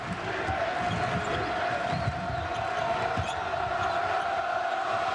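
Basketball crowd at a Memphis versus Tennessee college game roaring as Tennessee takes a one-point lead, a dense sustained swell of cheering under a commentator's voice.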